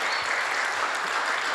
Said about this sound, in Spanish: Vamos a darles otra vez un fuerte aplauso,